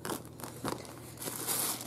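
Small plastic bag holding a finger toothbrush crinkles and crunches in several quick, close bursts, fairly quiet with brief pauses between handlings.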